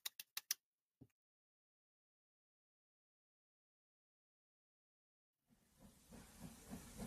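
A few sharp clicks, then silence, followed by a rising steady hiss of escaping steam from a steam engine running in a studio, with rhythmic pulsing underneath.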